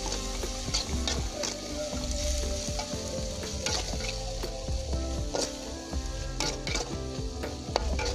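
Green beans and vegetables sizzle steadily in a hot pan while a utensil stirs and scrapes through them, with occasional clinks against the metal.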